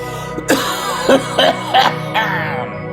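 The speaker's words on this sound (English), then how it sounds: "sorry about the cough, folks" Several short coughs in a row, close and fairly loud, with a brief throat-clearing sound mixed in.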